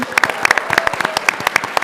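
Panel audience at PAX East gives a brief round of applause, a patter of distinct, fairly close claps rising and thinning over about two seconds.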